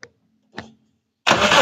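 A 2003 Daihatsu Taruna CX catches on the first try after a couple of soft clicks, then settles into a loud, steady running roar close by.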